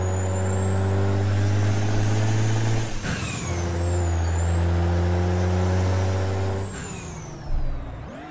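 An International 9800 cab-over truck drives in American Truck Simulator, its engine droning loudly with a steady harmonic hum that rises in pitch, drops sharply at each gear change, and climbs again.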